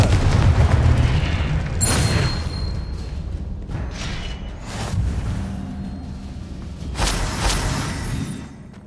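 Repeated booming fire-spell blasts in Hogwarts Legacy, a Confringo explosion among them: heavy dense rumbling with several sharp bursts spaced a few seconds apart, loud and close, no talking.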